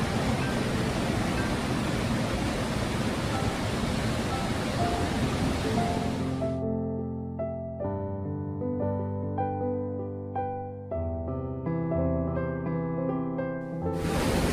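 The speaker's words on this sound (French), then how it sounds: "Lodfossen, ou Lodfoss, est une cascade qui provient de lacs situés plus haut." Steady roaring rush of the Lodfossen waterfall in Norway, fed by lakes above, fills the first half, then fades into a soft, sustained musical drone with low tones.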